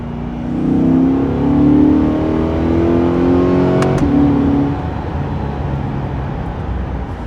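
A 2023 Chevrolet Corvette C8 with a naturally aspirated engine accelerates in a steady low droning rise, loud and close, then drops into a softer continuous hum. No one speaks.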